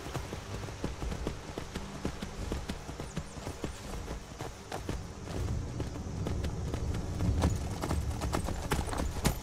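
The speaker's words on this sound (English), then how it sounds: "That's a little bit more horseback riding anyway." Horse hooves clip-clopping steadily while riding in Skyrim Special Edition, a continuous fast rhythm of hoofbeats close by with no talk.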